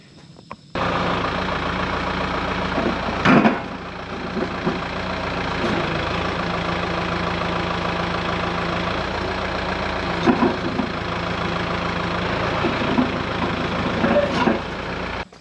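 A tractor engine idles nearby with a steady, low rumble, marked by a few brief clunks and load changes.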